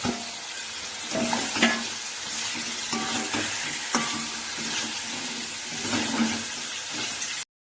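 Fish pieces sautéing in a fried spice paste in a pan, a steady close sizzle with stirring scrapes and clatters running throughout, loud and without any talk.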